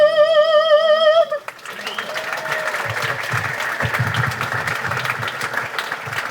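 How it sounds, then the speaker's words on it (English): A held sung note fades out and a live audience breaks into steady, full applause and some cheering for dancers at a local dance competition show, sustained and close to the end. "Big round of applause for them."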